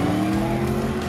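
A 2010s Chevrolet Camaro's exhaust note, a loud, steady engine drone held for about a second, close and dominant with no talking over it.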